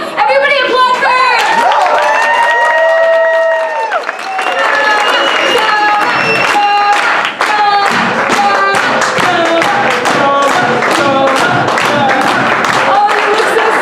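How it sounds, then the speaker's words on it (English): Audience applause at an improv comedy show with a Harry Potter Slug Club theme: a roomful of hands claps steadily for several seconds while voices whoop and talk through the clapping. "Come on, everybody applaud for her."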